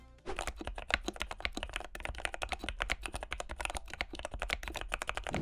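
Rapid, steady keystrokes clatter on a modded Womier WK61 mechanical keyboard, close and crisp, a dense run of clicks with no talk.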